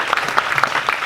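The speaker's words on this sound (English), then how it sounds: "how about a round of applause for our featured guest speaker, Mr. Bobby Powell" A brief burst of audience applause for guest speaker Bobby Powell: dense, close clapping from a crowd that keeps up an even level for about a second, with no talking.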